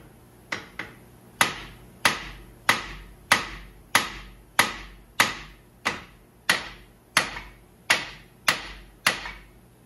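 A hammer strikes repeatedly in a steady rhythm, about fourteen sharp, ringing blows close by, each decaying quickly before the next, driving something down beside a wire.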